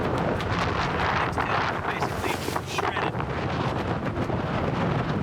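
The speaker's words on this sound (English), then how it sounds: "Now, we just need to hunker down and ride out this ferocious storm." A ferocious storm wind batters tents at a camp on Vanuatu near a volcano, roaring steadily and heavily throughout with buffeting gusts hitting the microphone.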